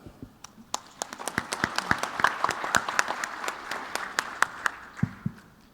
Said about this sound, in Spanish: pido un aplauso para el panel.